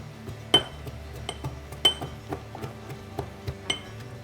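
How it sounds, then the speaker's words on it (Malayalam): Small onions (shallots) being crushed for a chicken tawa fry, heard as a series of sharp pounding knocks on a hard surface with clinking overtones, irregularly spaced and close by. "നമുക്കൊരു 5-6 ചെറിയുള്ളി ഒന്ന് ചതച്ചെടുക്കണം."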